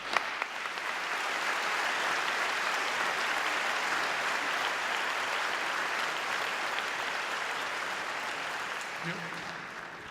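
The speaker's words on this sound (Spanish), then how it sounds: "o vos aplauso para ela" Sustained audience applause fills an awards gala hall, a dense steady wash of many hands clapping that holds evenly for several seconds before tapering slightly at the end.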